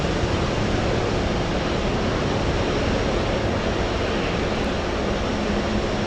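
Boeing 777 airliner at Anchorage airport in windy conditions, a loud, steady broadband jet roar filling the whole stretch without a break, with no voices over it.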